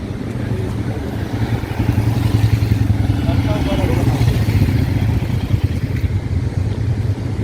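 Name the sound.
group of motorcycles riding past on Rohtang Pass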